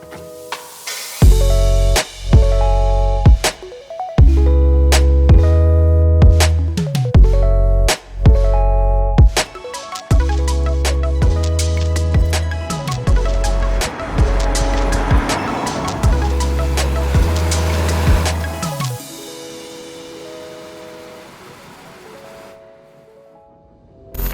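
A Honda Accord Hybrid sedan drives on the road, its engine and road noise rising and falling in repeated surges of acceleration, loud and close, with brief lulls between pulls.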